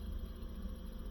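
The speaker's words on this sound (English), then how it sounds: "the compressor does sound a little noisy to me" A power unit compressor runs with a steady, slightly noisy low hum, close and continuous with no other sounds.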